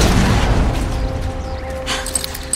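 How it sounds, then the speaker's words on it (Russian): An exploding container in Horizon Forbidden West: a loud, deep boom that rolls on and slowly fades, with rumbling debris underneath. "Один точный выстрел, и все рванет."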